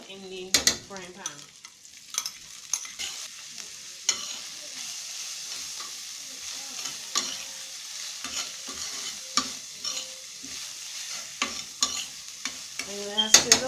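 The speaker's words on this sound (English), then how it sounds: "Now I'm going to put the red herring out in the frying pan." Red herring sizzles in a frying pan as it is stirred, a steady crackle broken by scraping and clinking of the utensil against the pan, close and without voices.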